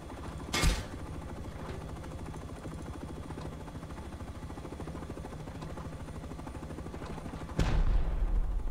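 An attack helicopter's turret in a video game fires long, rapid, continuous bursts under a steady rotor drone, with sharp loud blasts near the start and end.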